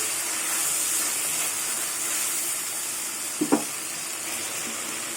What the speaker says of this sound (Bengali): মশলা কষাতে কষাতে তেল ছেড়ে দিয়েছে